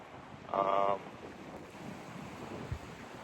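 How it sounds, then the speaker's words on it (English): Gusty wind buffeting the microphone on a late-afternoon hike through cold woods, a steady broadband roar with a brief louder gust near the start and a low thump later. "It's really windy"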